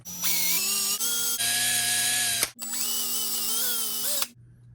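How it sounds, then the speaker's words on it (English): A power drill whines loudly in several sustained bursts while drilling a Hot Wheels toy car for a wheel swap, its pitch rising and dropping as it bogs down under load, with short pauses between runs. "let me do a little more drilling"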